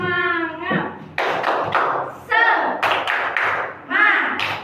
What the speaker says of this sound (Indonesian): sekarang kita tepuk semangat dulu yuk, bareng-bareng